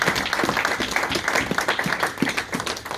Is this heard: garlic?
no